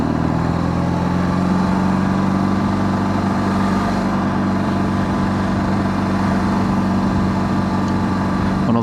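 An 18-year-old BMW GS motorcycle engine runs steadily and loudly up close, with a rough, tractor-like throbbing low rumble and no pauses.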